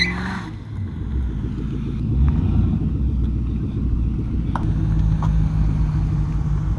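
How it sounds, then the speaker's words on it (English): A Lincoln Mark VIII fitted with a cold air intake, punched hard from a standstill in a peel out, its V8 engine surging into a loud, sustained low rumble that holds steady throughout. "We'll do the old-fashioned peel out test"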